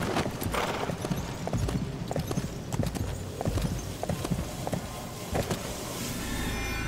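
Horse hooves clip-clop in a steady rhythm in the Sacred 2 game, fairly close and clear, easing off toward the end.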